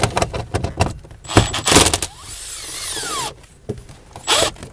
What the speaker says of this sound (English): So now take your impact driver and we're going to pull this off.